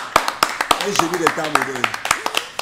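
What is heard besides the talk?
friends clapping hands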